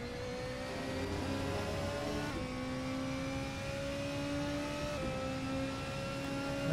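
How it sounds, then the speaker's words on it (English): An LMP2 race car engine in a racing video game at Spa drones loudly and steadily, its pitch climbing through gear shifts with brief dips between them, sustained and close. "The LMP2 car is louder than my car."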